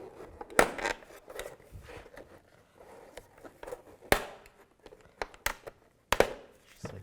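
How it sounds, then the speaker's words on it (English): Plastic trim tool prying the mirror cap off a 2007-2013 Chevrolet Silverado, a few sharp snapping clicks and pops scattered among quieter scraping and handling noises, close by. "Just try to get underneath and just pop it out."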